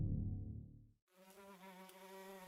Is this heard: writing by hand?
no